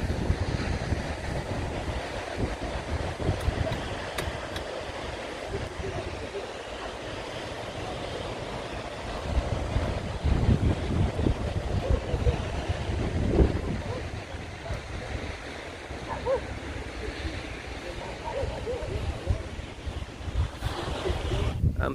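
Ocean waves wash and wind buffets the microphone at Praia Grande beach in Arraial do Cabo, a continuous loud roar of surf and gusts with no distinct breaks.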